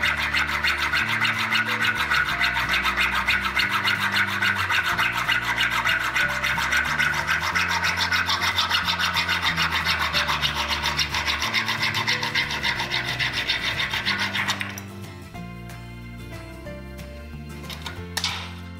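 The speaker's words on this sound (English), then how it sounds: "So to do that, I'm going to use my hacksaw. What I'm doing now, cut myself a nice square end on the MI cable." A hacksaw cuts across mineral-insulated (MI) cable to square its end, giving a steady, close rasping of rapid back-and-forth strokes for about fifteen seconds before stopping, followed by a few faint clicks and handling noises.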